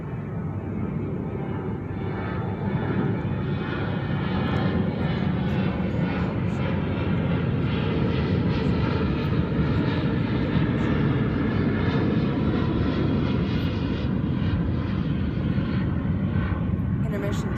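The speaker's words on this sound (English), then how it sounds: "Another plane." A fixed-wing airplane flying overhead, its steady engine drone loud and sustained throughout, filling the scene as a continuous roar outdoors on a peninsula.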